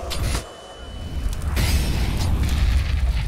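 A grenade explodes during a competitive CS:GO match, a short low boom around half a second in followed by a sustained rumbling roar of game noise; no speech.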